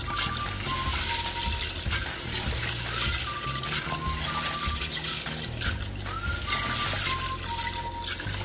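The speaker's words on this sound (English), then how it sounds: "I'm going to wash it with water 2 or 3 times," Water running and trickling over maize (makande) being washed for a githeri dish, a continuous close splashing, dribbling flow with small bubbling tones, no talk.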